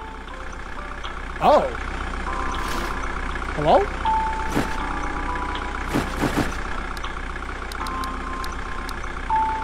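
A truck idles in the horror game The Closing Shift, a low, steady engine rumble running under a few short spoken words, with some brief knocks and thumps.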